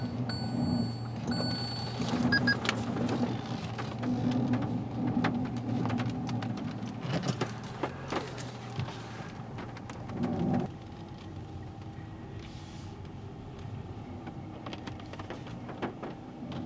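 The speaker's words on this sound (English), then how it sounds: "it's a rainy day, so we're going to see if we can fit in the shed and not get wet" Steady rain pours outside a shed on a wet day, a dense continuous hiss with occasional louder patters and a few faint tonal beeps early on, with no talking.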